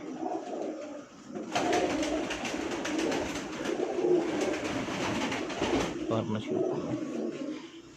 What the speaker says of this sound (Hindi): 20 नंबर गोल्डन कबूतर है जनाब